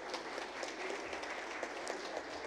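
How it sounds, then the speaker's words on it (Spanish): Faint, steady applause from the audience at the opening of a Bolivian cultural exhibition, a thin continuous patter of clapping heard from a distance, with no speech over it. "Por favor, un fuerte voto de aplausos."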